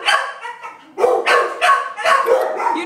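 A large, thick-coated dog with a little white on its muzzle gives a burst of several close, loud barks in quick succession, with a whiny yip between them.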